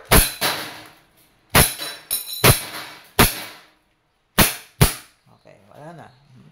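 A Wingun 702 airsoft revolver with a six-inch barrel fires in double action, giving sharp cracking shots in irregular pairs and clusters, close and loud. Faint handling noise follows the last shot.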